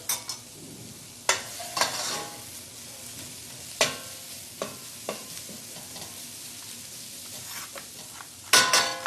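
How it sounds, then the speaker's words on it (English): Vegetables sautéing in a stew pot, a soft steady sizzle punctuated by intermittent spoon scrapes and light clatters against the pot, close by and with no speech. "while these vegetables are sauteing"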